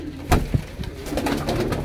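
Pearl-marked Sialkoti pigeons from a breeder's loft give a few soft, close coos in quick succession over low background noise, with no talking.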